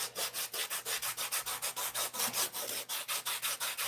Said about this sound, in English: Never been a huge fan of sanding though